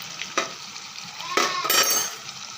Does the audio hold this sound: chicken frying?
yes